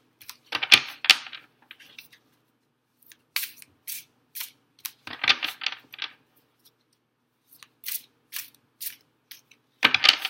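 A tarot deck is shuffled by hand in bursts of crisp riffling and card slaps, separated by short quiet pauses, close up and with no talking.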